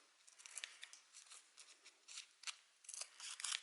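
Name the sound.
cutting a paper strip holding tomato seeds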